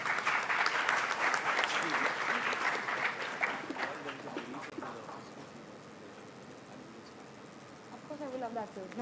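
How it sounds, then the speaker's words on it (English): An audience at a first-year student orientation and induction day claps loudly, the applause fading gradually into murmurs and chatter, with a brief bird-like chirping near the end. "Can we have a huge applause?"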